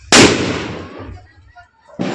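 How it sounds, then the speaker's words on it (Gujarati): A large firecracker bomb set off during Dev Diwali celebrations with family gives one sharp, loud close blast, a long fading rumble after it, then a second burst right at the end. "શૈલેષભાઈ મોટો બોમ્બ લઈને આવ્યા બીજો"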